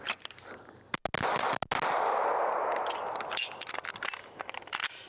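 Pistol shots at a shooting range: a couple of sharp cracks near the start, then a long loud burst of crackling noise that fades into scattered pops.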